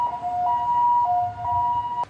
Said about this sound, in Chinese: 开来专责救护车，